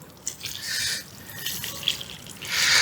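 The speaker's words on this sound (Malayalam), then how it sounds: "നമ്മൾ ഈ സാഫ് ഒന്ന് കലക്കി ഒഴിച്ചു കൊടുക്കുന്നു" Saaf fungicide solution is poured onto a potted adenium plant, a close, soft trickle and splash of liquid in uneven bursts that swells loudest at the end.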